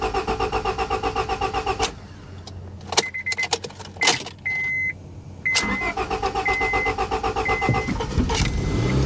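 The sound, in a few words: Lincoln MKX engine starting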